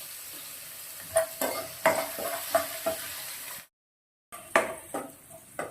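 Onion sizzling in a pan, a steady hiss broken by repeated scrapes and stirring knocks, with a brief silent gap before the frying and stirring resume.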